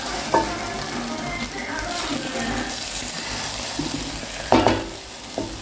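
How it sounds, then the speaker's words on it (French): Rice fries in a pan with soy sauce and chicken, giving a continuous sizzle with scraping stirs and a few sharper knocks of the utensil against the pan. "Si on n'avait pas frit le riz, ça allait coller."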